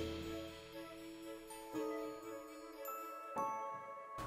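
A bright chiming notification bell jingle rings in a few layered, tinkling strikes with sustained tones, clear and alone with no talking.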